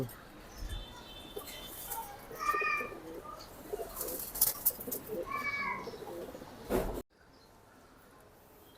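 Racing pigeons coo in a loft in a few soft, throaty bursts, close and moderately loud among low rustling and shuffling, before the sound cuts to near silence.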